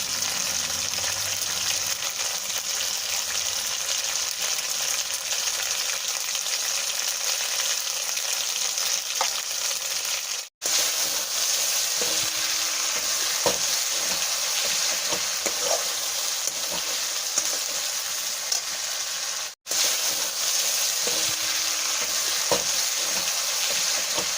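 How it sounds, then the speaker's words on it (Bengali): Spice masala for matar paneer, with potatoes and paneer, fries in a pan under steady close stirring, a continuous sizzle with scattered spoon taps and two brief cuts to silence. "মশলা এইভাবেই আমি কষতে কষতে মাঝে মাঝে একটু চামচে করে জল দিচ্ছি যাতে মশলাটা নিচে না লেগে যায়"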